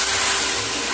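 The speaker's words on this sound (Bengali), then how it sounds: "বেশি একটা না, জল দিয়ে দেবো।" Water pours into a vegetable curry cooking in a pan, a continuous, close gushing rush for about a second with no voices.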